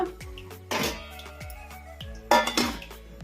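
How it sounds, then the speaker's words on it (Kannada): A metal plate set down as a lid over a pan of poha set dosa batter, giving a few sharp clinks and clatters of dishware, with two louder impacts among lighter taps, close by and with no talking. "ಇನ್ನೊಂದು ಐದು ನಿಮಿಷ ತಟ್ಟೆ ಮುಚ್ಚಿ"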